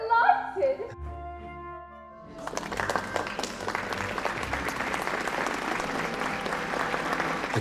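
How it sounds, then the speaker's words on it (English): A theatre audience at Ford's Theatre bursts into sustained applause for the president, dense clapping that swells and holds steady after a short stretch of music and voices at the start. "The crowd applauds the president."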